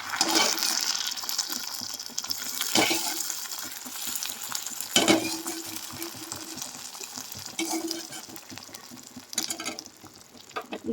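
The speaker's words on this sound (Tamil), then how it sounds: "முந்திரி எண்ணெயில் இதே மாதிரியே நல்லா ஃப்ரை பண்ணிக்கோங்க" Steady sizzling of cashews frying in hot oil, with occasional scraping and stirring clatter close by.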